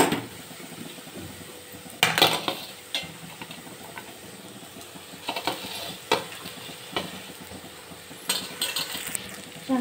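Small bitter gourds stirred into a pan of chilli-garlic masala in a village kitchen, a soft sizzle beneath repeated scrapes and clinks of a spoon against the metal pan, close and irregular, without talk.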